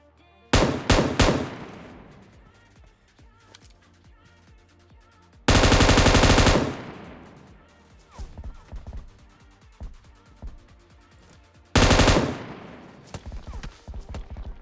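Machine gun fire in a mobile battle-royale shooter, with an M249 among the weapons, comes as loud sustained bursts at the start, around six seconds and near twelve seconds, with quieter scattered shots and game sounds in between.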